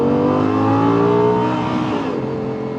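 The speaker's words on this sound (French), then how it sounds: "Donc en V10, donc le plus gros moteur" A loud 525-horsepower V10 car engine revs hard and climbs in pitch, a sustained, throaty roar that builds then eases slightly, close to the microphone.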